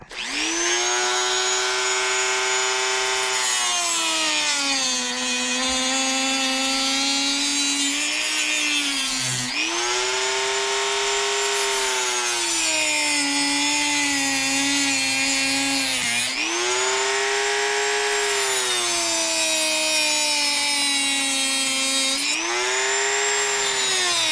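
A power tool cuts radiator guards for a Yamaha YFZ450R quad, a loud, close, sustained tonal whine that dips and rises in pitch over several long passes, with short breaks between cuts.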